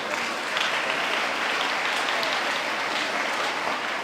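Steady applause from an audience clapping for students, dense clapping that holds at an even level throughout with no voices standing out.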